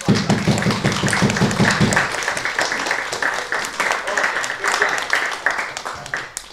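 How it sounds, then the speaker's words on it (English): A martial arts class in Derby gives a round of applause, with brisk, rhythmic hand claps running throughout at close range and a lighter patter after the opening seconds. "Let's give James a big round of applause, guys."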